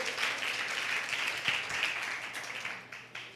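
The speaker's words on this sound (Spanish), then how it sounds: "Denle un fuerte aplauso a Jesucristo." A church congregation applauds for Jesus Christ during a Spanish-language sermon on the Book of Revelation, giving a steady wash of clapping that sounds distant and fairly quiet, with no speech over it.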